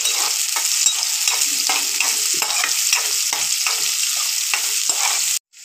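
Finely chopped onions sizzle loudly in a pan, stirred in a quick repeated rhythm of scraping strokes over a continuous hiss, cutting off abruptly at the end.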